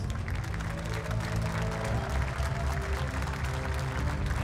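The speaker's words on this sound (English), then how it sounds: "And now a big round of applause for the Unite International Champions, Digni" Steady applause from a crowd at the Pokémon North America International Championships, a dense continuous patter of clapping holding at an even level throughout.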